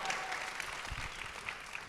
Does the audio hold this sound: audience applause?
yes